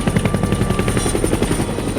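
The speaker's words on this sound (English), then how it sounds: "is that a helicopter? Yeah, it sure is" Helicopter in the physics sandbox game People Playground, with a steady, loud rotor chop and engine whine beating rapidly and evenly throughout, with no talk over it.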